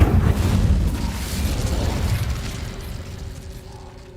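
Incendio fire spell cast in the Hogwarts Legacy video game, a loud booming burst of flame that rumbles on and slowly fades over a few seconds, with no talking.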